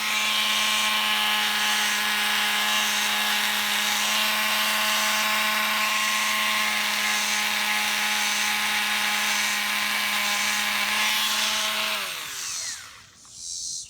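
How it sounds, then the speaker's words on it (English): Small Dremel rotary tool fitted with a wire brush scrubbing a corroded electrical terminal on a Chrysler TC by Maserati brake light, a close, steady high-pitched whine that winds down abruptly near the end. "I just got a little Dremel tool with a small wire brush on it"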